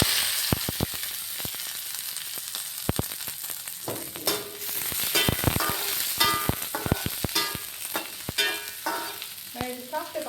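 Chopped onions frying in a pan for a chicken mayonnaise bread sandwich, a steady close sizzle throughout with sharp clicks and scraping taps of a utensil stirring against the pan.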